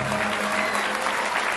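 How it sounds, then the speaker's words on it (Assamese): An audience at a public gathering gives a steady round of hand claps, with dense, continuous applause and a low hum underneath. "এটা জোৰে হাত চাপৰি দিয়ক"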